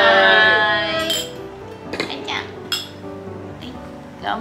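Several bright glass clinks ring out at intervals as drinking glasses filled with an aperitif are touched together in a toast among friends on a private holiday trip, with the group's voices audible around the chimes.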